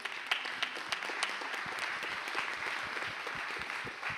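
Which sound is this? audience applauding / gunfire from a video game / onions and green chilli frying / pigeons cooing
audience applauding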